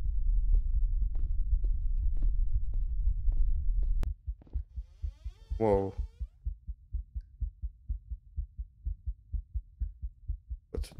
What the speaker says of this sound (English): What's with the heart beating?